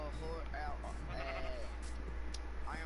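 Pink sheep bleating in Minecraft, several wavering bleats scattered through the clip while a person talks over them.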